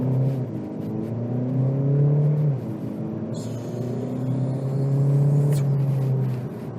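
2021 Audi Q2 accelerating at full throttle in dynamic mode, heard from inside the cabin as a steady engine drone climbing in pitch through two gears with a brief shift dip, moderately loud with no talk.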